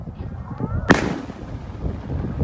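A single loud firework burst from Roman candle and multi-shot cakes during a Takbiran night celebration in Indonesia, one sharp crack near one second followed by fading crackle and a background murmur of crowd and wind.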